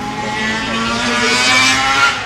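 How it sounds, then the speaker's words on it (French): Old racing motorcycles circle the Montlhéry track, a shrill, buzzing engine drone that rises and swells slightly as they pass at a moderate distance, continuous for a couple of seconds. "là ce que vous entendez tourner c'est un bruit un peu strident. Ce sont des vieilles motos de course"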